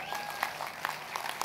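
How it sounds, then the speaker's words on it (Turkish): Applause from an audience at a Turkish political rally in Istanbul, a soft steady patter with a few sharper claps standing out, moderately distant and fairly quiet throughout. "Bir alkış yapalım."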